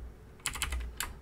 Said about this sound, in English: you want to type in shell:startup